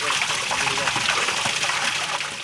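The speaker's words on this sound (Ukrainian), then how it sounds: "Вода в купіль надходить із криниці," Spring water from a spring-fed well flows steadily into a bathing pool, a continuous broadband rush and splash that stays close and fairly loud for the whole stretch.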